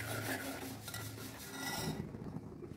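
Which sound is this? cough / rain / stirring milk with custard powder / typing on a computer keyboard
stirring milk with custard powder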